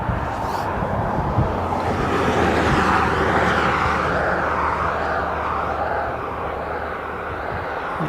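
An airliner taxies and swings around on the runway at Aberdeen Airport, its jet engines a loud, steady roar close by that swells slightly mid-turn and then eases, with no talk over it.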